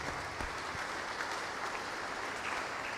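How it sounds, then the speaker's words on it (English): A church congregation at Holy Mass applauds with a dense, even patter of many hands clapping that holds steady throughout, with no voices over it. "Let us give clap to the Almighty Father."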